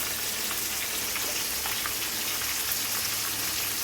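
Chicken pieces sizzle in a pan with turmeric and salt for a Sunday biryani and curry, a steady, loud, close frying hiss throughout with no voices.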